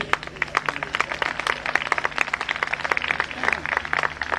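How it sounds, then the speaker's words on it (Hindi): Audience applause during a Ram Leela stage performance, a dense, steady patter of many hands clapping at close range, running continuously with a faint background hum. "रावण! को प्रोत्साहन के लिए केवल दर्शकों की तालियों की जरूरत होती है।"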